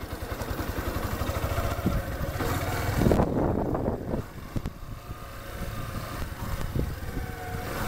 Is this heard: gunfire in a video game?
no